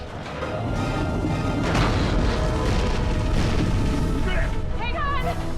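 A torpedo blast in a giant shark monster film rolls out as a loud, sustained boom lasting several seconds, with a dense low rumble under frantic shouting voices.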